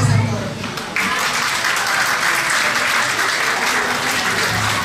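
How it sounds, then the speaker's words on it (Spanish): An audience gives strong, sustained applause for two teachers at a school event, dense clapping continuing throughout while a voice speaks over it. "Un aplauso bien fuerte, pero son dos maestras, dos docentes."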